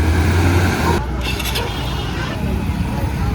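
An auto rickshaw ride from the Amarapur fork near Palghar: a steady engine drone and road rumble carry through, with a voice talking over the ride noise.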